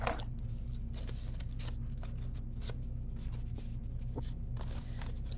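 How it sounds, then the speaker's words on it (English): Scissors snip down the middle of a folded paper triangle while making corner bookmarks, giving soft, close crisp cuts and paper rustles spread over a steady low hum, with no talking. "you're going to cut it right down the middle"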